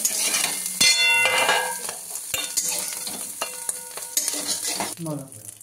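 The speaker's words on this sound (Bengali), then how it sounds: "তার জন্য আমরা একটু হালকা করে এটা ভেজে নেব" Pieces for a snail jhal curry fry lightly in oil in a wok, giving a close, loud sizzle broken by clattering stirring strokes, with no talk.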